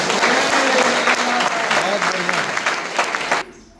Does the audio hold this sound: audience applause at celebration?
yes